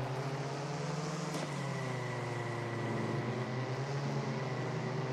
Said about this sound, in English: if you rev your car at the start,